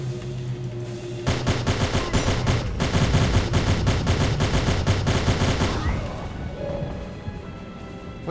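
A sustained, rapid burst of automatic gunfire in Tomb Raider: The Angel of Darkness, about four and a half seconds of close, loud, evenly spaced shots before it stops abruptly and leaves quieter background sound.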